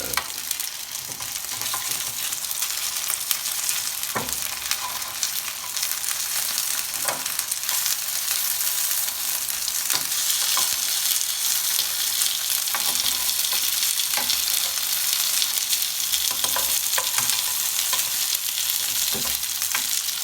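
Pork gyoza dumplings pan-fry in hot oil, crisping golden on the bottom, with a loud continuous sizzle and occasional light clicks of the pan throughout.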